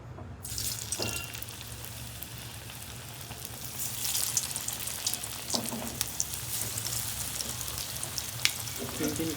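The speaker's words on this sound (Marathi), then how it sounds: "तर आपलं तेल आता गरम झालंय मस्तपैकी आणि आता आपण डीप फ्राय करणार आहोत." Taro leaf rolls (alu vadi) deep frying in hot oil give a steady, close sizzle and crackle that runs through the whole stretch, with occasional small clinks.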